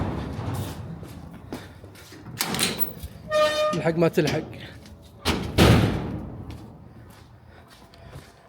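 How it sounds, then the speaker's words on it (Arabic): A house door being shut and slammed as people hurry out to the mosque for Eid prayers, with a few sharp thuds and rattles amid quick talk nearby. "نقفل الباب"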